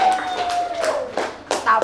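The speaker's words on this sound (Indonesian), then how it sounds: "Tepuk tangan untuk Nurul." A classroom of students claps for a classmate, quick uneven taps in short bursts while a voice and a thin whistle-like tone carry underneath.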